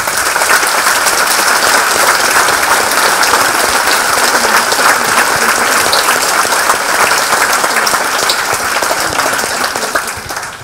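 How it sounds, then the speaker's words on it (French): Sustained, loud audience applause in a hall, dense steady clapping from a large crowd that holds evenly for about ten seconds before easing slightly at the end, with no talk over it. "je vous demande vraiment de les applaudir parce qu'ils ont beaucoup fait pour nous"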